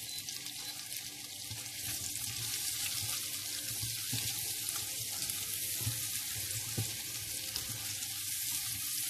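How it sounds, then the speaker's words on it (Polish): Onion frying in a pan with pork and paprika for a pork goulash, a continuous steady sizzle and hiss with faint stirring, no talking. "2-3 minuty smażymy."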